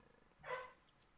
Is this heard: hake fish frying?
no